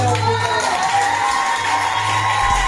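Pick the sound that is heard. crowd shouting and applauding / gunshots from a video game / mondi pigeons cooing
crowd shouting and applauding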